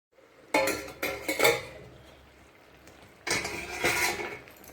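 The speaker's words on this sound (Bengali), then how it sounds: "দেখো এখন একটু নাড়াচাড়া দিয়ে এখন একটু সময় ঢাকা দিয়ে রেখে দেবো" A pot of fish, green banana and potato curry stirred with a metal utensil, giving a few close clanking scrapes against the pot in two short bursts separated by a quiet pause.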